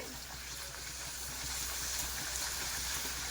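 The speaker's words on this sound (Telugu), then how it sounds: "ఆయిల్ హీట్ అయిపోయింది. ఇప్పుడు పూరీ వేసుకుందాం." Puri deep-frying in hot oil, a steady broadband sizzle and hiss holding at an even level throughout, close and with no voices.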